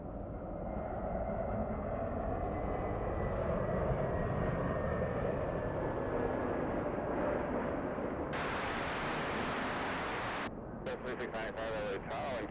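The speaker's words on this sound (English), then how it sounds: "That's a blue JetBlue." JetBlue airliner at LAX airport roaring steadily from a distance, a broad engine rumble with a slowly shifting whine, partly covered by bursts of wind noise toward the end.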